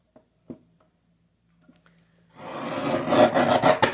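Blade or scissors trimming a thin sliver off the side of a paper journal cover, a dense continuous rasping scrape starting partway in after a few faint taps and clicks in near silence.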